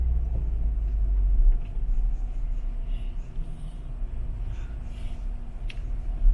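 A 2021 Ford Bronco crawling off-road at Moab, heard from inside as a continuous low engine and road rumble with faint rattles over the rough trail.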